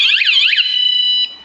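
A van security alarm blasts loud and close, a rapidly warbling electronic siren that settles into a steady piercing tone for just over a second before cutting off.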